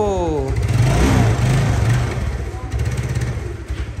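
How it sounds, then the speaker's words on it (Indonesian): A Vespa Matic scooter engine runs nearby, blipping and revving in uneven bursts, then settling into a choppy idle. "Wow, mesin halus. Tarikan juga masih lumayan."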